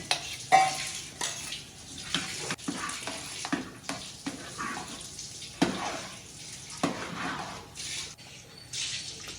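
Boiled sago vadiyalu batter being stirred with green chili paste in a pot, producing wet, sloppy squelching and scraping strokes in irregular bursts, close up, with no talking.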